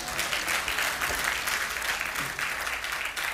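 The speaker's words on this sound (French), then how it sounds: "On va laisser un gros applaudissement." A church congregation breaks into steady, dense applause that fills the room, with a faint voice briefly audible beneath the clapping.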